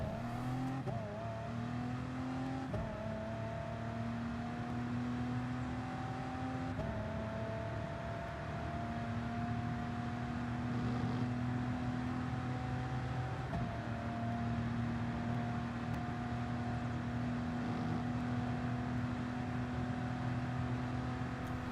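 Race car engine in Gran Turismo Sport at Circuit de la Sarthe, droning loudly and steadily with rising pitch as it accelerates through gear shifts, continuous and alone for over twenty seconds.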